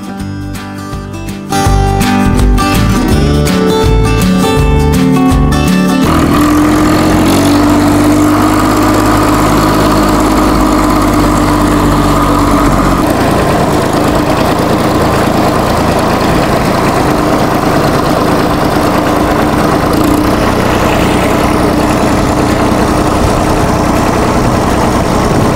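A tractor engine idles in a steady, loud, low throb that runs unbroken for the whole stretch after a short rattling start, with no voices over it.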